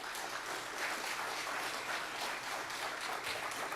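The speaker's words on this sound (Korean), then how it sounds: "큰 박수로 환영해 주시기 바랍니다" A church congregation at a Wednesday evening service applauds to welcome a missionary to the pulpit, a steady wash of clapping at low volume with no voices.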